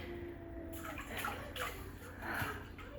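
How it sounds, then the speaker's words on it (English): Hudson the dog splashing and lapping in the dogs' water bowl at home, soft irregular watery sloshes and drips, fairly faint and close, with a quiet background hum. "Hudson's playing in the water bowl."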